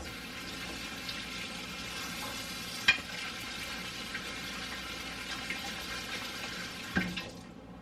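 Salisbury steaks and onions fry in a pan with a steady, even sizzle and crackle, broken by a couple of brief clinks and stirring sounds.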